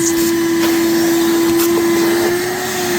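A vacuum cleaner runs steadily inside a vehicle during interior cleaning, its loud constant motor whine holding one even tone for the whole stretch with no talk over it.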